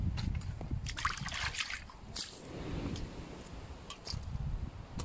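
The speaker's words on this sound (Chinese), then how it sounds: "鸡肉还得过一下水的啊。" Raw chicken pieces rinsed in water outdoors in a wooded spot, soft sloshing and splashing with scattered light clinks, faint and close, over a low background rumble, no one speaking.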